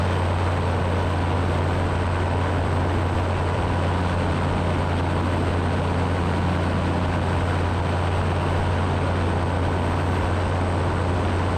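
Steady, loud drone of a Super Petrel amphibious aircraft engine held at throttle, heard from inside the cockpit as a constant hum with a strong low tone and no voices.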